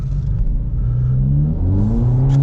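A BMW 1 Series driving through snow, its engine humming steadily inside the cabin with a low rumble and gently rising and falling pitch, no speech.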